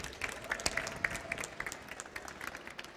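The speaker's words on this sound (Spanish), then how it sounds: "Un aplauso para Daniela." A small audience at a panel talk on the climate crisis gives brief, light applause for a speaker being introduced, a faint, scattered patter of hands with a few sharper individual claps.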